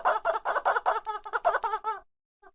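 A bunch of chickens cluck close and loud in a rapid, steady run of about a dozen throaty pulses. A brief silence follows, then one short faint cluck.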